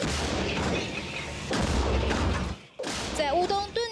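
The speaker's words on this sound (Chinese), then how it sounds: "在乌东顿内茨克炮轰俄军" An M109L self-propelled howitzer of Ukraine's 33rd Mechanized Brigade fires in the Donetsk area of eastern Ukraine, two heavy booms in quick succession, the second followed by a brief warbling tone and distorted burst.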